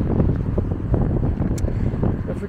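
Strong wind blows outdoors on a sunny day's walk, buffeting the microphone as a steady, loud low roar with no pauses.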